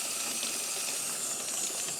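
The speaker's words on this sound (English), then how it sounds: "So just rinsing them like this separates them pretty easily." A water sprayer rinses soil off the roots of two plants beside a deck rail, giving a steady, broad hiss of spray that runs unbroken and fairly loud, with no talking.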